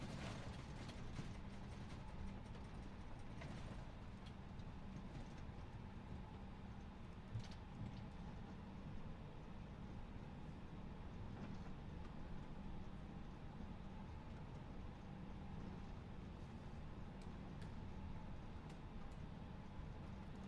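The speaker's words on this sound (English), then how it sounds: "Let's switch on to the window view so we can hear the beautiful flaps being retracted" Flaps on an A320neo retract in a flight simulator, a faint steady mechanical whirring and ratcheting grind of gears running continuously under a low cabin hum for about twenty seconds.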